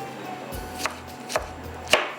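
Three sharp knife chops land on a board, slicing fried onion into pieces, spaced roughly half a second apart and heard close and clear with no one talking.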